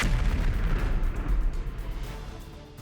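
A heavy, low rumbling boom from bombing in Caracas, Venezuela rolls out and lingers, dense and loud, slowly fading without any voices.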